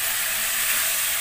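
Fish frying in spiced oil with turmeric and salt, a steady, loud broadband hiss and sizzle running unbroken through the moment with no talk.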